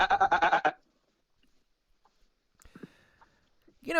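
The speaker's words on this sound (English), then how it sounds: "that's a goat" A goat gives one loud, wavering bleat near the start, followed by near silence and a few scattered faint sounds.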